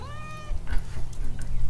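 A single cat meows close by, a short rising cry, followed by soft rustling and handling noises.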